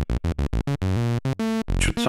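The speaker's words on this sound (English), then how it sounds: "it's like a long sustained note, even though initially I've tweaked the envelope to be plucky" A Behringer Neutron synthesizer, its envelope set plucky, sounds a run of short repeated notes that give way to a long sustained tone, loud and close with no voices.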